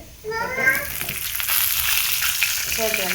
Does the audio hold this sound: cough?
no